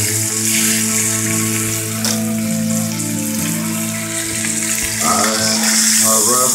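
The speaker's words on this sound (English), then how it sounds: "Getting the edges seared real good." Deer meat sears in a hot pan with a steady, dense sizzle and crackle throughout, a few soft scrapes and clinks of stirring breaking in near the end.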